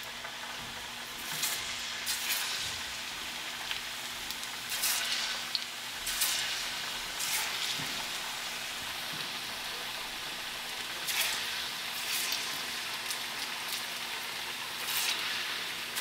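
Plantain slices frying in hot oil, a steady soft sizzle with occasional crackling pops, continuous and moderately loud throughout with no voices.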